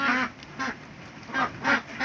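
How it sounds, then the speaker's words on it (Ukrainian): Ducks quack in the rain in a rural yard, four short nasal calls in two pairs, fairly close and clear against a steady background of falling rain. "Качечки радіють разом зі мною, не ховаються, а під дощом мокнуть."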